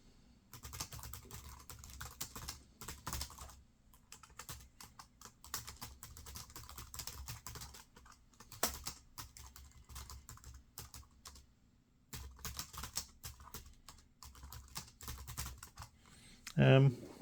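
Fingers type on the keyboard of an old ThinkPad X201 laptop, producing close, soft clicking keystrokes in quick bursts separated by short pauses.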